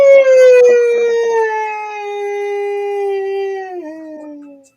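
A single long, loud howl with a clear pitched tone slowly falls, wavers, then drops and fades out, heard close and alone.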